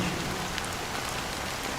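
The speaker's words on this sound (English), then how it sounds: "Why did this rain choose me?" Steady rain pours in a Honkai: Star Rail scene, a dense even hiss of drops hitting surfaces with no voices.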